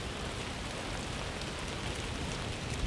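Steady rain falls in the video game Aloft, a dense, even hiss of drops that stays soft and unbroken throughout with no voices.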